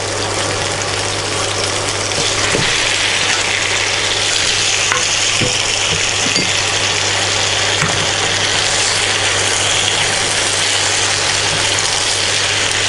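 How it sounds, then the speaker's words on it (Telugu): Macaroni pasta with chilli powder is stirred in a hot pan, a loud constant sizzle and hiss with a few soft scrapes from the spoon over a steady low hum, close up, with no voices. "పాస్తా వేసుకొని మొత్తం కలుపుకోవాలి కారం కూడా చిల్లీ పౌడర్ కూడా వేసుకోవాలి"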